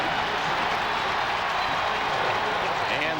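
A 1992 Kansas City Chiefs at Dallas Cowboys football game: a large stadium crowd sends up a steady, loud wash of cheering and applause after a touchdown, broad and continuous with no pause.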